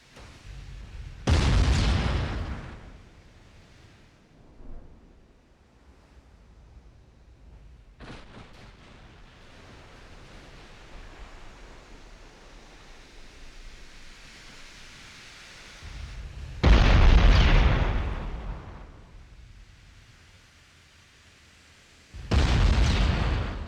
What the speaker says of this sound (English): That's another 4 torpedo hits, and that is one dying battleship